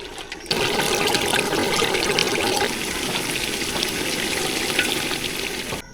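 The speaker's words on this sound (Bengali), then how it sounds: "হাঁসের গোশত তাই একটু ভালোভাবে কষায় নিতে হবে" Duck meat sizzles loudly and steadily as it is stir-fried (kosha) in a pan, a dense, continuous crackle of frying that begins abruptly and carries on without pause.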